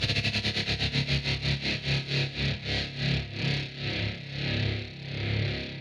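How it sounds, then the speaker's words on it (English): Distorted electric guitar note pulsing with a tremolo effect worked by hand, its rapid throbbing slowing gradually over about six seconds, loud and alone, recorded for heavy, grungy guitar tones. "That was just a tremolo that he was automating with his hand"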